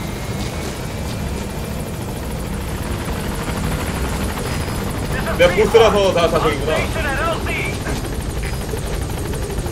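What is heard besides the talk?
helicopter arriving at landing zone in video game Metal Gear Solid 5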